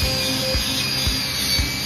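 An Arbortech mini grinder fitted with sandpaper sands down wood in a steady whirring rasp, with rhythmic scraping strokes repeating about every half second, close and loud.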